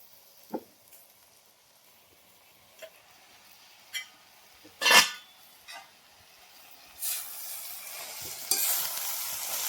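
Food stirred in a pan with scattered clinks and scrapes, then a gentle sizzle building toward the end, no talking.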